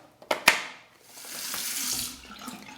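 Tap water running to rinse shaving lather from a razor and face, a couple of sharp splashes followed by a steady hissing stream, close and moderate, without speech.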